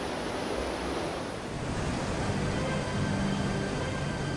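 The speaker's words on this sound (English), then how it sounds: "water from the head race flows into a wheelhouse where it steadily turns the big water wheel" Water from a head race pours into the wheelhouse and turns a mill's big water wheel, a steady broad rushing roar, close and continuous, with no voices.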